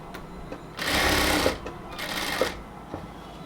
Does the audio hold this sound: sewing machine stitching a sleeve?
yes